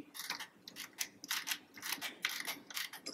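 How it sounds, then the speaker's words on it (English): A service wrench turns a refrigerant suction service valve, making a close, quiet series of quick metallic ratcheting clicks in uneven bursts. No one speaks. "So our suction service valve, I placed my service wrench on"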